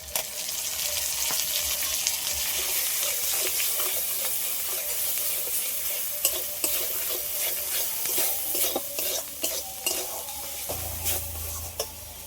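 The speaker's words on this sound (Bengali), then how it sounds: "মশলাটা ভালো করে কষিয়ে নিয়েছি" A spice paste of turmeric, ginger, garlic and dried chili sizzles steadily in a pan while being stirred, scraping clicks scattered over the hiss, with a low rumble near the end.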